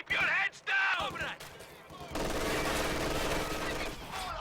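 Machine gun suppressing fire in Company of Heroes 2, an MG pinning an infantry squad: after brief voice-like bursts at the start, a dense, sustained rattle of rapid gunfire continues loud and steady to the end.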